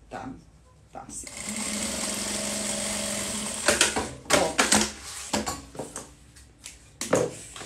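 An electric sewing machine stitches fabric in a steady whirring burst lasting a few seconds, followed by shorter stop-start runs. Someone talks over and between the stitching.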